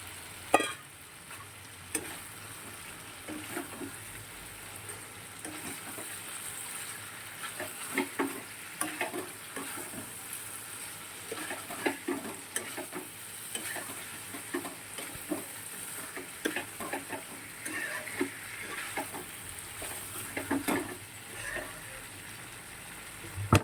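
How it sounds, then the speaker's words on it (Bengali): Potato and pointed gourd sizzling in hot oil in a pan, a steady soft frying hiss with scattered clicks and scrapes of stirring, close and fairly quiet. "এবার আলু আর পটলটা দিয়ে দিচ্ছি।"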